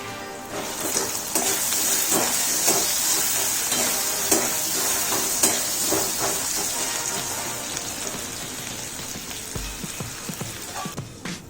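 Diced potato with turmeric powder and salt sizzles loudly in hot oil in a pan, with steady frying hiss and repeated scraping stirs throughout, no voices.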